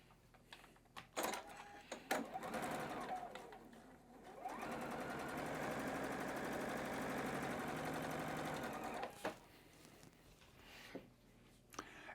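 A sewing machine stitches rows of a quilt block together in one long steady run of rapid mechanical whirring, preceded and followed by short bursts and quiet handling clicks.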